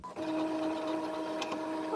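An inkjet printer running a test print, emitting a steady mechanical whir with tonal hum and brief carriage clicks, continuous and close throughout.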